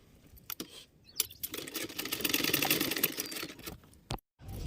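Blouse fabric being stitched by a sewing machine at home, a fast continuous whirring run of a few seconds between short bursts, close and alone with no talk.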